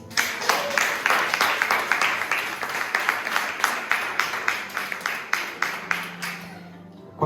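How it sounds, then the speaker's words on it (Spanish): A congregation at a Sunday church service applauds, a fairly close crowd of claps falling into a steady rhythmic beat, one pulse about every third of a second, gradually softening toward the end. "Denle un aplauso a Dios."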